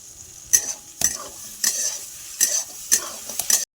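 A spoon scrapes and stirs chopped tomato and garam masala powder in a hot pan, about six quick rhythmic strokes over a soft sizzle, close and alone.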